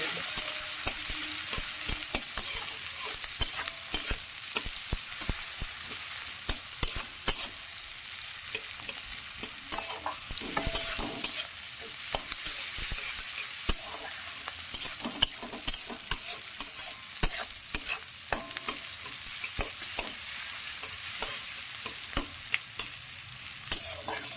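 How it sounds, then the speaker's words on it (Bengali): Onions being stirred and fried in a pan while cooking mutton chaap, with a steady broad sizzle and irregular scraping stir strokes throughout, close and moderately loud, no talking. "এবার এই যে পেঁয়াজটা নাড়াচাড়া করতে থাকবে"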